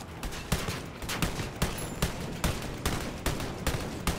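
Gunfire in the video game Wolfenstein Youngblood: a rapid string of sharp shots, roughly two per second, cracking at a steady rhythm through a busy, noisy combat soundscape.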